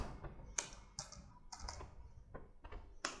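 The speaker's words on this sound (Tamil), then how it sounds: "ஸோ அதுக்கு நம்ம போஸ்டரில் May 1 டைப் பண்ணிக்கலாம்." Scattered keystrokes on a computer keyboard while entering text into a poster design in Photoshop, quiet and close, with irregular clicks and short pauses between taps and no speech.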